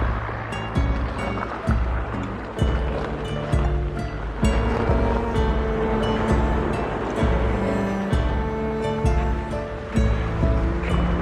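Ocean waves break continuously on a shore, a steady loud wash of surf with overlapping crashes and no talk.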